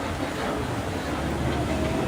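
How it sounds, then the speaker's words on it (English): A theme park train at Busch Gardens Tampa Bay rolls along its rails with a steady, dense rumble and faint rhythmic wheel clatter, heard from on board. "All right, so I got on the train here in Stanleyville."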